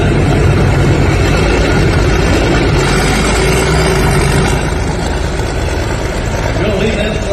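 Loud, steady engine roar of a pulling tractor straining down the track at a tractor pull in Highland, Wisconsin, a heavy low rumble holding throughout with crowd or announcer voices faintly mixed in.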